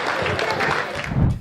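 An audience at a Hindi comedy poetry gathering claps briefly, a dense close burst of applause that swells toward the end, with a voice mixed in.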